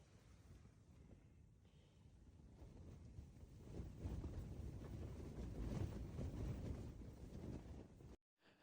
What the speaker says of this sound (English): The wind continued.